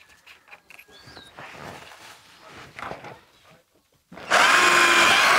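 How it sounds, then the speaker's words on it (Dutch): In a flower craft and gift shop, a power drill fitted with a smaller bit bores into the inside of a piece. Quiet handling noises come first, then the drill starts abruptly near the end and whines loudly and steadily. "Dan ga ik nu boren."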